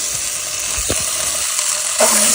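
Turkey sausage sizzling with onions in a hot pan: a loud, steady frying hiss with a few scraping stir strokes and a louder burst of sizzle near the end, no speech.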